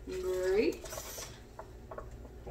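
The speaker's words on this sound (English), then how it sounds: "Give it a stir" A spoon stirs a pot of garlicky turkey kale soup with grapes added, giving brief scraping and clinking of utensil against cookware near the start, then quieter rustling.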